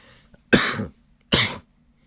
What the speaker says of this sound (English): I've been having this persistent cough that has not gone away